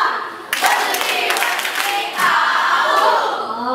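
A classroom group does a rhythmic matching clap, many hands striking together in a loud, dense burst with crowd cheering and shouting mixed in, continuing energetically throughout.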